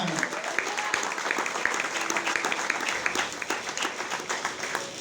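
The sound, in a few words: applause for the King at a church service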